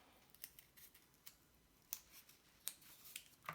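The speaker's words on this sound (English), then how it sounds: "If you think it's got a corner, you might want to trim that off." Scissors make a series of quiet, sharp snips while trimming the corner off a piece of material for a flanged lid, with several irregularly spaced close cuts and no speech.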